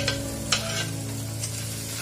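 Capsicum sautéing in a pan, a steady close sizzle broken by a few short stirring scrapes and clinks, with no one talking.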